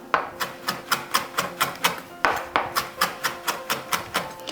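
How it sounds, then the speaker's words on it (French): A knife finely chopping marinade ingredients by hand on a board, with a steady run of sharp, evenly spaced taps close up and one short pause partway through. "Et c'est comme ça qu'on hache finement."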